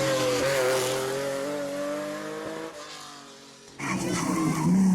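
A Porsche rally car roars close by, its engine revving hard with tyres skidding and squealing, dips briefly, then surges back loud and aggressive at the end.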